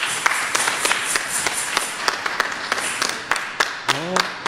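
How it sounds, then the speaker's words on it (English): Steady applause from a church congregation at a Sunday worship service, with scattered sharper claps standing out, mixed with voices and a short sung or called phrase near the end. "Reverend Dr. Robin Anthony Toogood II, won't you give them some applause?"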